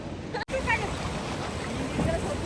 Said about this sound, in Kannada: ನೋಡಿ ಯಾವ ರೀತಿ ಅಲೆಗಳು ಬರ್ತವೆ